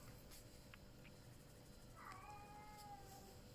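Cat meowing with a drawn-out whining tone, a single rising then sliding cry near the end over a steady background hiss, fairly faint and unaccompanied by talk.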